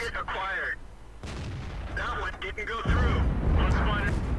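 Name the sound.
artillery shells hitting a tank, from the video game World of Tanks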